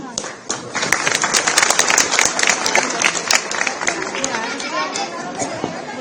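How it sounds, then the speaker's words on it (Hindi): A crowd at a Delhi cabinet minister's public meeting claps in a dense burst, loud and close, with chatter and voices mixed in as the applause thins out. "जो ताली नहीं बजा रहा उसको नहीं चाहिए"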